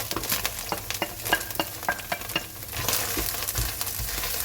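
A shallot and garlic mixture sautéing in a pan, lively close sizzling with quick scraping stirs of a utensil, loud and continuous over a few seconds with no talking.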